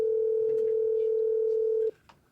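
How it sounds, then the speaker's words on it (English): A steady telephone dial tone holds for almost two seconds as a call connects, then cuts off abruptly, leaving a brief faint click and near silence. "have Coach Jones on the phone with us"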